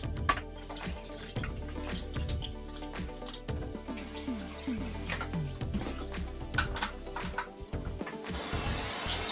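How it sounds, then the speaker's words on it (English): Bird food pots and water pots are rinsed under a running hot tap with no cleaning products, a steady splash of water with clinks of the pots against the sink throughout. "now it's time to wash their food pots and water pots"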